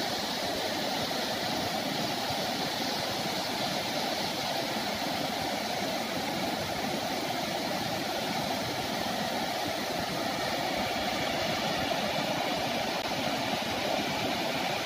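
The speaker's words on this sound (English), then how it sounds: "filming the waterfall." A waterfall beside a river pours in a steady, close, broadband rush that holds an even level throughout, with no voices over it.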